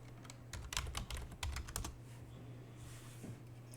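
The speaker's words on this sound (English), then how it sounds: "You type uname hyphen r" A short burst of quick keystrokes on a computer keyboard enters a Linux command, soft and close, clustered in the first two seconds before a quiet pause with a low hum.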